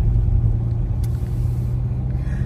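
A car cruising along at sunset, its steady low engine rumble and road noise filling the cabin continuously and fairly loud, with no voices.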